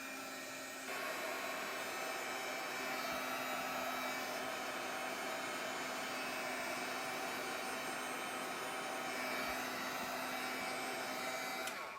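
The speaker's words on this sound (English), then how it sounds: "if it's already hardened, just bring your heat tool" A heat tool blows hot air onto hardened resin, a loud steady roaring whoosh that starts after a brief pause and runs without a break, close to the mic.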